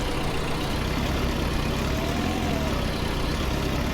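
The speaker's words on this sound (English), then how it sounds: "Considering we've got two small tractors to start us off" Two small tractors drilling spring wheat run with a steady, dense engine drone, close and constant, with no pauses or changes in pitch.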